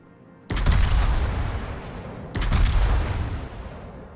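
Rear turrets of a warship fire in World of Warships, two heavy booming salvos about two seconds apart, each a loud rumbling blast that decays slowly.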